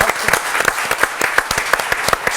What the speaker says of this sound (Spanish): Un aplauso por favor para Pimpi.